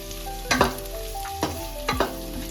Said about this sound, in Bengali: আমি একটু নাড়িয়ে নেব।